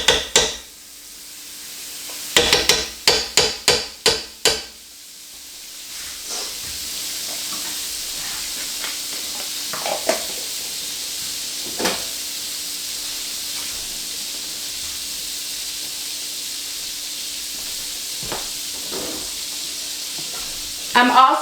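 Vegan butter sizzling in a pan with cubed steak drippings, opening with a burst of sharp crackles and pops that settle into a steady hiss with occasional spatters.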